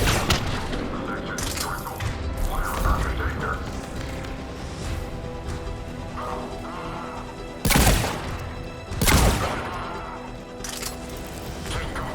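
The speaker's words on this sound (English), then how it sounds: "Shepard, Cerberus troops at checkpoint, attempting to kill Krogan. Need assistance. Enemy still present. Pod under fire." Gunfire and heavy blasts in the video game Mass Effect 3 as Cerberus troops attack a checkpoint: scattered shots and crashes under radio-style voices, with two loud bursts standing out near the end.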